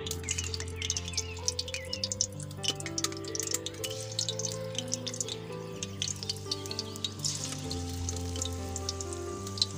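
Pakora batter sizzling in hot oil for lachha and aloo pakoras, a steady crackling fry with scattered pops and drips, fairly quiet and close, with no talking.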